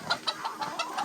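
Rooster clucking close by on a farm during extreme heat, a quick series of about six short, evenly spaced clucks.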